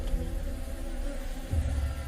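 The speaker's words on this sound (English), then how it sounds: "These tiny honeybees are easy prey for the largest hornet in the world" Steady insect buzzing as a giant bamboo hornet attacks tiny honeybees, a low continuous drone that swells slightly toward the end.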